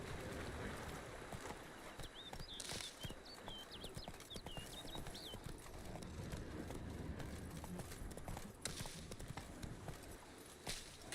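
Hooves clip-clop rhythmically as a horse gallops in The Witcher 3, steady and fairly quiet among game ambience, with a faint voice in the background.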